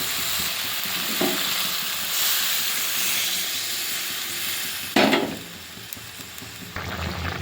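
Water poured into a pan of sizzling mustard and poppy seed curry being cooked in a village style, a steady loud frying hiss with stirring, then a sharp burst of spitting and bubbling as the water hits, settling to a softer simmer.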